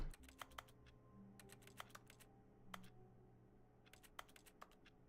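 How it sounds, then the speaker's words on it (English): Keyboard typing within a video game, with soft scattered bursts of key clicks and brief pauses over a low steady hum, no talking. "That sounds like a keyboard."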